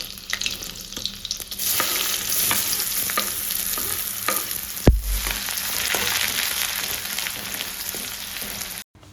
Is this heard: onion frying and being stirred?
yes